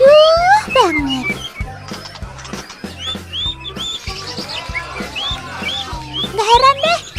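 Bright, varied whistles and trills of a white-rumped shama ring out continuously, layered over a repeating music beat.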